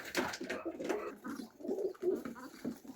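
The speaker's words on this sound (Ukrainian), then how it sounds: "Я зараз буду заселяти пакистанських голубів, трохи там іранців" Pakistani and Iranian breed pigeons coo in low, throaty bursts, several birds overlapping in a steady murmur at close range inside their cages.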